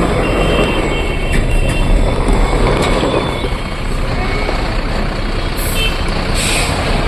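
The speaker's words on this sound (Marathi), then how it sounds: "फार मोठी गाडी आहे बघा इथून पण दिसत असून" A large truck rumbles loudly and continuously nearby, with brief hissing bursts of air brakes toward the end.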